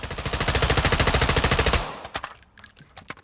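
A Knight's KS-1 rifle in Call of Duty Modern Warfare II fires one loud, unbroken full-auto burst of rapid, evenly spaced shots for under two seconds. The burst cuts off abruptly and a few scattered clicks and clatters follow.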